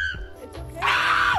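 A playing otter lets out a loud, shrill, human-like scream that rises sharply and holds for about half a second, after some quieter squeaks and chirps.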